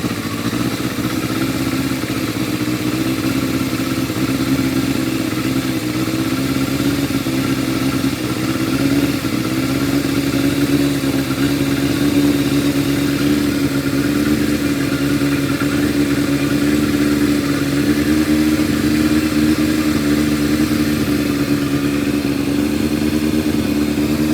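Motorcycle engine running steadily during carburettor synchronisation, a close, continuous droning idle with slight rises as the revs pick up, loud and unbroken with no talk.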